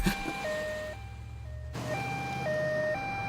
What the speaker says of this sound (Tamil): என்ன ஆம்புலன்ஸ் வருது சித்தப்பு?